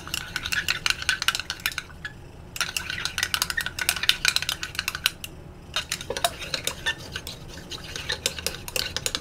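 A utensil stirs a small mixture of carrier oil, polysorbate 80 and water, making rapid clinking and scraping against the container in quick irregular bursts with brief pauses, close and fairly loud.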